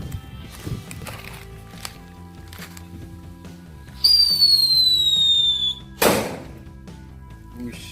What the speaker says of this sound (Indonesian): ini dia petasan super kaget